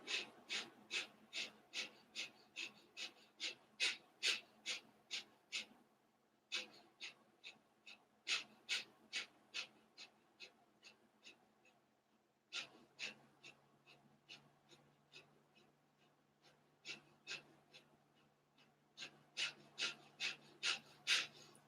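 Kapalabhati yoga breathing: a steady train of sharp, forceful nasal exhales, close and rhythmic, in several rounds separated by short pauses, with quiet background between the bursts.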